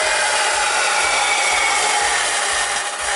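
Loud, close hand sawing through misprinted PLA plastic, a regular back-and-forth stroke rhythm, a harsh rasp over a steady background hum.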